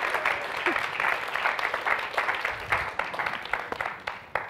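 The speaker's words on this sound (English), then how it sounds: "Please give everyone a nice round of applause that helped with that experiment." Audience applause in a forum hall for the people who helped with a safety experiment, a steady wash of many hands clapping for several seconds at moderate level.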